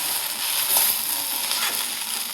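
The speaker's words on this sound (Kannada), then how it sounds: "ಇವಾಗ ನಾವು ಇಲ್ಲಿ ಏನು ಮಾಡ್ತಾಯಿದ್ದೀವಿ ಅಂದರೆ ಬೆಂಡಿ ಫ್ರೈ ಮಾಡ್ತಾಯಿದ್ದೀವಿ" Okra (bhindi) frying in a pan, a steady broadband sizzle with faint crackles throughout, close and alone without voices.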